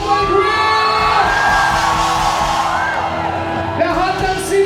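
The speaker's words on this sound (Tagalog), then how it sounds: "Pwede ba namin marinig ang inyong mga sigawan, Cowboy Crew?" A concert crowd at a Cowboy Grill band show shouts, whoops and cheers loudly and steadily throughout, with a few yells rising above the dense roar.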